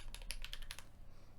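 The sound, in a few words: typing a password on a computer keyboard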